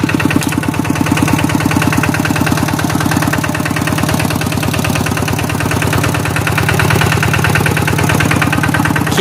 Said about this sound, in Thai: รถไถเอาเลยขึ้นกัน